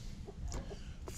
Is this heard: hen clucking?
yes